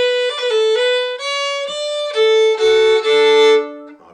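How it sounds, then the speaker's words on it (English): A bowed fiddle plays a quick ornamental roll and then climbs up a scale, with clear sustained notes growing busier and brighter toward the end, played alone without talk. "Let's do the roll and then go up the scale to continue with what the tune does."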